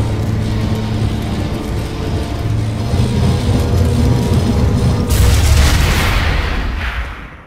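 A shield generator explodes in the Planetside 2 video game, a loud sustained rumbling boom with heavy low-end roar and a burst of crackling debris partway through before fading at the end.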